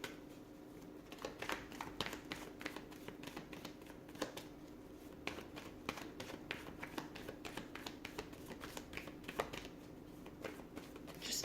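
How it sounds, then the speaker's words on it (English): Tarot cards being shuffled and pulled from the deck, a soft steady run of riffling card taps and flicks close by, with no talking. "So I'm just going to pull a few more cards."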